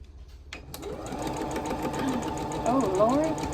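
A push-start sewing machine runs steadily at high speed, its rapid mechanical whir continuous and close, with a person talking over it.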